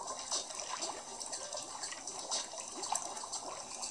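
Bath water running for a pet in the game PK XD, a soft steady splashing and trickling flow, faint and continuous with small bursts, heard alone.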